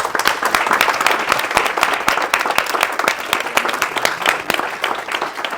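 An audience at a real estate talk claps loudly and steadily to welcome speaker Cédric Laporte, a dense close patter of many hands sustained for several seconds with no voices over it.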